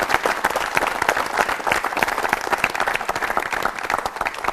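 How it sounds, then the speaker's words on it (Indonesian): A studio audience claps together for a guest on an Indonesian talk show, loud and close, a thick continuous patter of many hands with slight surges that carries evenly through the clip without anyone speaking. "kita tepuk tangan dulu untuk Pak Lino."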